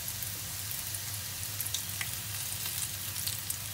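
Quail egg wontons frying in oil with a steady, close sizzle and fine crackling pops throughout, no voices.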